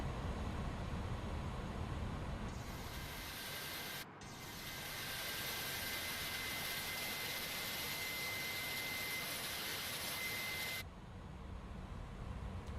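Engine 2 of an Airbus A310 spools up in Microsoft Flight Simulator as a broad, steady whine-and-roar. A brief cutout comes early, then a sustained rushing tone, which drops off near the end.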